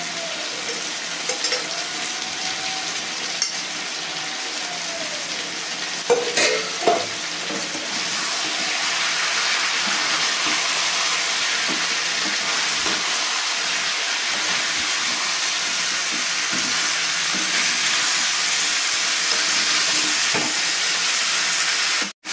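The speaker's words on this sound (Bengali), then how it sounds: "আলু ফুলকপি মশলা আমার খুব ভালোভাবে একসঙ্গে কষানো হয়ে গেছে।" Cauliflower and potato fry and sizzle with salt, turmeric and spices in a pan. The sizzle is steady and close, and stirring scrapes and clatters through it. No voices.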